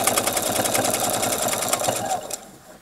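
A sewing machine stitches fabric along a marked guideline, following a curved arc; its close, steady rhythmic whirring runs continuously before stopping near the end.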